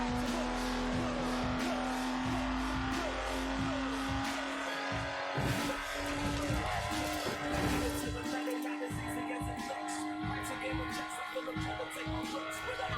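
A Lotus Exige sports car with no power steering driving in Forza Horizon 4, its engine drone holding a steady tone with revs rising and falling, plus tire noise, under continuous narration.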